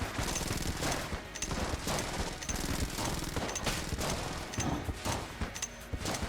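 Rapid gunfire from the game Enter the Gungeon, a dense stream of repeated sharp shots in quick bursts with brief pauses, loud and close, and a voice now and then.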